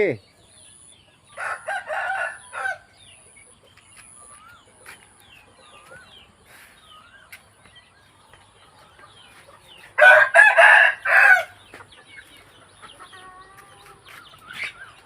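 Two loud rooster crows stand out, one early and one later, with softer clucking and chicken calls scattered in between.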